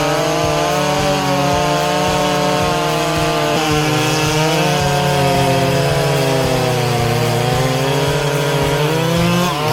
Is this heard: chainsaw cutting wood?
yes